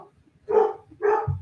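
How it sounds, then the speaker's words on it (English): A puppy gives two short, nearby barks in quick succession over a quiet room, with a faint thump at the end. "That's the puppy making all that noise."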